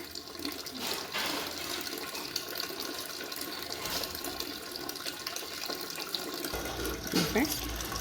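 Water is poured into jalebi batter of ground black gram and sour buttermilk: a steady, splashing trickle runs for several seconds close by, with a brief murmur of voice near the end.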